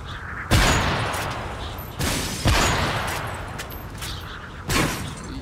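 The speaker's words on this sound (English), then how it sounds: "Don't forget to blow up all the barrels." Explosive barrels blowing up and gunfire in a one-on-one video game match, a series of heavy booms roughly every two seconds over continuous rumbling noise.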